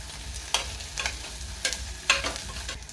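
Ginger-garlic paste roasting in a pan, a soft sizzle broken by several sharp scraping strokes of a spoon stirring against the pan at an uneven rhythm.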